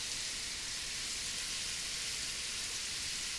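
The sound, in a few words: garlic, carrots and celery caramelizing in cast iron pan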